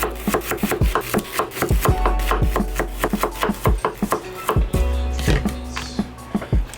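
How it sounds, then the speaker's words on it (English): Thin slices of peeled shallot cut with a knife on a cutting board for a Thai basil chicken stir fry: a quick, steady run of crisp close knife taps, some doubled, with no talk. "Slice some shallots. Shallot peeled. Slice it real thin."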